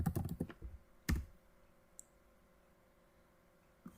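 Keys clatter on a computer keyboard as a degree name is typed into a search box: a quick burst of close clicks in the first second, another short flurry just after, then near silence with a stray tick or two.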